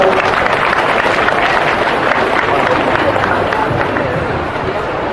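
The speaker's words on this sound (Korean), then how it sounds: "큰 박수로 모시겠습니다" At an outdoor candlelight rally in Busan, a crowd claps and cheers loudly in a dense, sustained roar, murmuring voices blended into the noise throughout.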